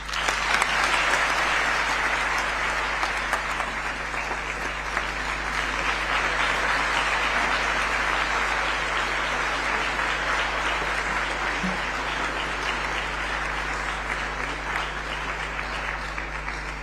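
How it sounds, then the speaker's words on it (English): Sustained audience applause fills the hall at the opening of the World Health Summit Regional Meeting 2026, a dense, steady clapping from a large crowd lasting throughout with no speech over it. "Another round of applause for His Excellency and all the speakers."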